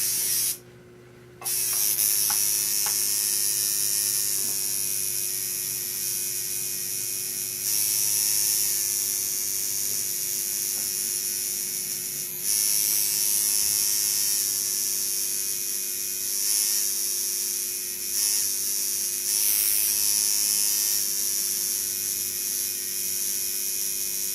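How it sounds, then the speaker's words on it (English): An electric tattoo machine runs continuously with a steady buzzing hum, broken by a brief dropout near the start and a few slight dips, and no one speaks. "I'm running my machine."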